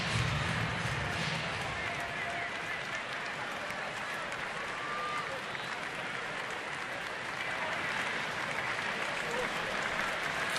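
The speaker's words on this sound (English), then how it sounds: "Crowd starting to clap for an end to this inning." A baseball stadium crowd claps in a steady, dense wash of applause that holds evenly from start to finish, heard from a distance.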